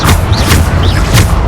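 A Bombarda explosion spell going off in Hogwarts Legacy, a loud, dense, rumbling boom that fills the whole moment, with no talking.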